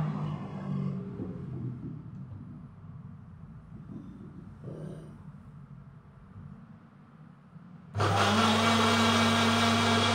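A blender grinds rendang spice paste of garlic and shallots, kicking on abruptly near the end with a loud, steady motor whine after a stretch of quiet rustling and faint handling noise.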